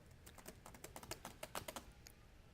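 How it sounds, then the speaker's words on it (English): Fingers typing on a computer keyboard, a quick irregular run of crisp key clicks, close and fairly quiet, with no one speaking. "If I start typing in the title"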